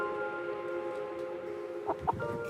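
Chickens cluck a couple of times, short bursts near the end, over a steady mechanical hum in the background.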